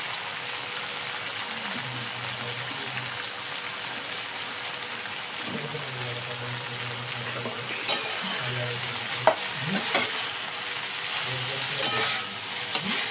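Cabbage with green peas fries in a pan and is stirred, a steady close sizzle with repeated scraping strokes of the spoon and a few sharp clicks against the pan.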